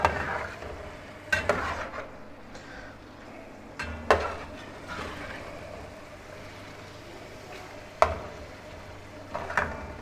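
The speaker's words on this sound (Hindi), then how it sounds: "और एक दफ़ा इसको मिक्स कर लूँगा मैं।" A spoon stirs beef karahi in a pot, with a low steady sizzle and a few sharp scraping clinks of utensil on metal at irregular intervals, and no one speaking.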